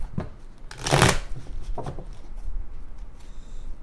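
Tarot cards being shuffled by hand: several quick papery riffling bursts, the loudest near the middle, close and clear with no one speaking.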